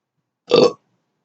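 A single close, loud burp, lasting about a third of a second, stands alone in silence.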